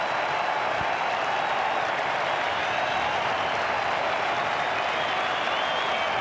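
A cricket crowd at Adelaide roars and applauds after Australia's Ashes Test victory over England, a broad, sustained wash of cheering and clapping that stays loud and even from start to finish.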